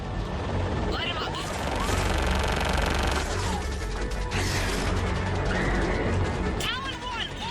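Fighter craft gunfire rattles through a dense Mass Effect 3 battle, with rapid bursts layered over mechanical clatter, crashes and radio-style voices talking throughout.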